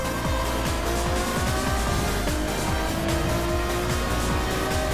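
Racing cars roar through a racing video game, including a Bugatti with a straight-line speed advantage, engines droning loudly and continuously with layered revving and gear shifts throughout.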